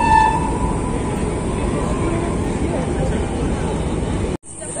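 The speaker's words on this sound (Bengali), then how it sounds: "উপর থেকে ট্রেন যাচ্ছে।" A train rumbles across the Bally Bridge overhead, heard from the Ganges ghat below as a loud, steady roar and rattle that ends abruptly.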